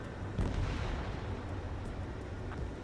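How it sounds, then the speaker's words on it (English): Launch blasts and booming fire rumble through an Ace Combat 7 air battle, a dense roar with a sharper burst near the start, no talking. "Mage 2, missile launch."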